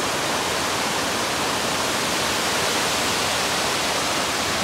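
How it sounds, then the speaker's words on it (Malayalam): Water rushing out of the Munnar headworks dam on the Muthirapuzha river, a dense, loud, continuous roar with no other sounds. "ഡാമിൽ നിന്ന് വെള്ളം ഒഴുകി പോകുന്നുണ്ടോ."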